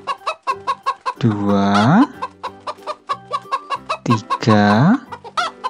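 Chickens in a garden cluck in quick, rhythmic bursts, broken twice by long, rising rooster-like crows, while a voice counts aloud over them.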